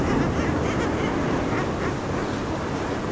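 A dense nesting colony of thousands of guillemots at Stack Rocks, Castlemartin, makes a constant, overlapping clamour of calls over the roar of surf below the sea cliffs.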